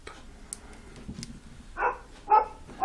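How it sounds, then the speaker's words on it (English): Dogs bark in the background as a few short, muffled bursts in a quiet room, faint at first and then two louder barks near the end. "Excuse the background noise. My dogs are barking."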